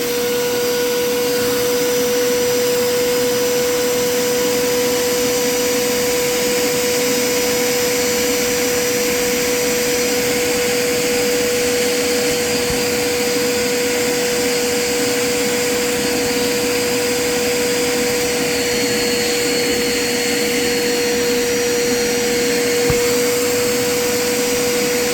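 A cleaning machine on its rinse setting works over cushions from a 1998 Coleman pop-up camper, producing a loud, unbroken suction drone with a steady whine that holds for the whole stretch.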